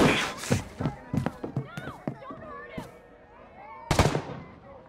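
Gunfire in Ghost Recon Breakpoint: several sharp shots in quick bursts, then a lone shot and a final close burst, with people shouting and talking in between.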